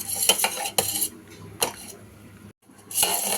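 Cooked lentils and tomato being mashed in a pot for mango sambar, with a few sharp metallic knocks and scrapes of a utensil against the vessel, irregularly spaced, with a short pause before the last one.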